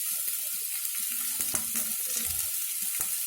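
Onions frying in a pan for chicken fry, a steady close sizzle with soft stirring scrapes and small crackles throughout, no voices.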